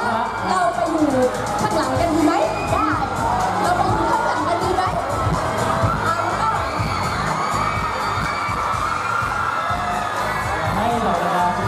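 A packed crowd at a crowded stage event cheers and shouts continuously, with high excited voices and whoops forming a dense, loud wall of sound throughout.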